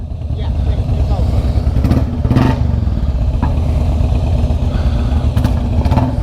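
A Royal Enfield Classic 350 motorcycle engine runs steadily on a test ride, a low, continuous thrum with small surges in revs, heard close with wind buffeting and occasional clatter.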